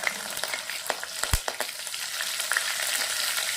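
Mustard seeds, cumin and green chilies hit hot oil, crackling in a close, busy sizzle scattered with sharp pops and one louder snap.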